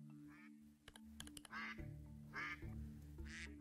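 Cartoonish duck quacks from the Stonehearth video game, three short nasal bursts spaced about a second apart over quiet game background and a few clicks, faint overall.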